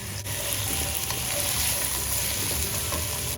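Green chillies, mushroom, carrot, potato, green peas and corn sauté on a high flame for vegetable pulao, making a loud, dense, continuous sizzle with no voices.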